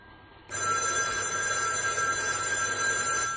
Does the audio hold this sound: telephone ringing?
yes